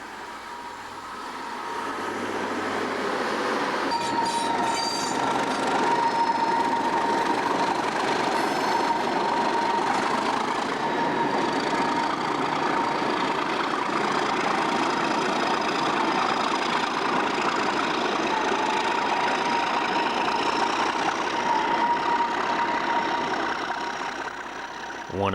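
Class 153 and Class 143 diesel multiple unit trains run steadily with a sustained engine and rail rumble for most of the stretch, with a faint tonal whine on top and no speech.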